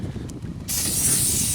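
A short burst of aerosol brake cleaner sprayed on a new brake rotor hisses loudly and close, starting abruptly after a moment of low background noise.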